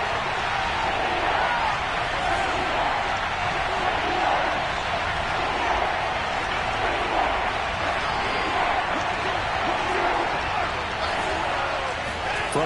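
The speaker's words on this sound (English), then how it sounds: "That just means this crowd's going to get even louder" A stadium crowd in an American football video game roars in a steady, dense wall of cheering that holds loud and unbroken throughout.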